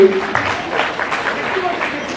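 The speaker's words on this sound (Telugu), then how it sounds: "ఇప్పుడు గట్టిగా చప్పట్లు కొట్టండి ఆయనకి" A gathered audience breaks into applause, a dense, fairly loud wash of clapping that holds steady for a couple of seconds with a voice faintly beneath it.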